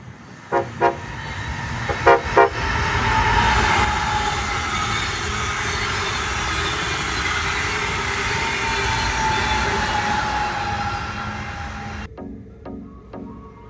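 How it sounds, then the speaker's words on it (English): A Brightline passenger train pulls out of Orlando station and picks up speed toward 90 mph. A few short horn toots come early, then a steady, loud rolling rumble builds and holds, and more horn blasts sound as the noise drops near the end. "Upon departing from the Orlando station at 12:50 p.m., our train accelerates to 90 miles per hour"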